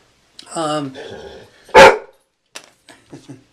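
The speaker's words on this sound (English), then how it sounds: "I'll have to stop here because my dog, Ned, wants something." A pet dog indoors lets out a whiny yelp followed by one sharp, loud close bark, then a few softer short yips and grumbles trail off.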